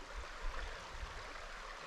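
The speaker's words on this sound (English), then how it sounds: "This is Coon Creek, or Big Coon Creek, and this is Little Coon Run." Big Coon Creek runs steadily outdoors, a continuous broadband wash of flowing stream water with a low rumble, moderately quiet and even throughout, with no voices.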